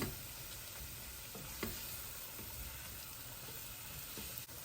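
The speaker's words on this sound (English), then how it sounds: "I'm just going to stir this for about 1 minute until all the flour disappears" Flour being stirred into a hot pan for a fall meal, giving a steady, soft sizzle with a few faint scrapes, continuous and fairly quiet throughout.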